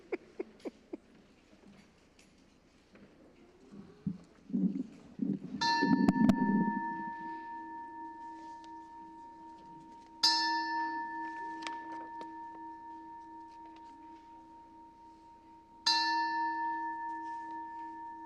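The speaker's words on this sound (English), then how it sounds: "Ringing of the bell, Reverend Margalie." After some soft rustling and clatter, a bell is struck three times at spaced intervals during a church service, each stroke ringing out clearly and fading slowly.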